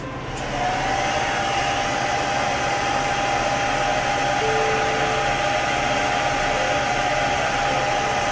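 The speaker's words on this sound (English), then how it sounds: "So now I am going to actually blow dry that again." Hair dryer blowing steadily on chalk paint during a home decor craft, a loud continuous whooshing drone with a steady motor whine running from start to finish, close and alone.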